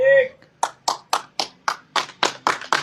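A small group claps in a steady rhythm to cheer a man on through a challenge, about ten sharp, evenly spaced claps in a row after a brief voice at the start.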